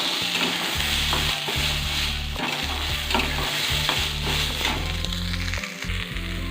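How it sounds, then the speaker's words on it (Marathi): Sweet corn kernels fry in a little oil while being stirred steadily, with a close, continuous sizzle and repeated scraping strokes of the spoon against the pan throughout. "हे बघा लागते भाजायला सुरुवात झाली त्याला डाग असे पडायला लागले"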